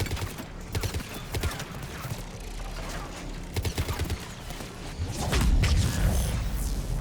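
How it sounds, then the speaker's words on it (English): A Mass Effect 3 game explosion bursts into a deep, loud rumble late on, preceded by clattering, rapid gunfire-like cracks over a steady low roar. "Ooh, an explosion."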